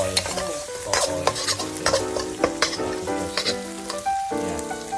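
Garlic with red and green chilies stir-fries in hot oil, a loud close sizzle broken by repeated clanking strokes of a utensil against the pan.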